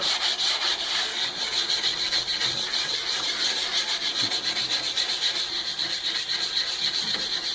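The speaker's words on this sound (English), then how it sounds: "kind of rub the base to remove some of the other material that's embedded in the base a little bit more." Base of a downhill ski rubbed during tuning to lift out old wax and embedded material, a continuous close hissing scrub with a quick, even back-and-forth rhythm.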